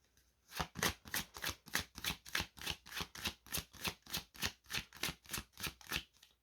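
Cards shuffled for a divination reading: a steady run of about fifteen quick riffling bursts, each a crisp papery flutter, close and clear with no talking.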